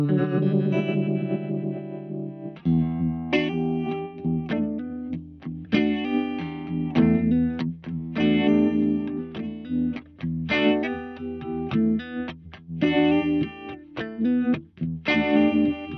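Guitar chords through a Mozztronics VB-2 Duo-Vibe pedal with both vibes at full depth, one slow and one fast, giving a steady wobbling, throbbing tone; repeated strummed chords, loud and alone.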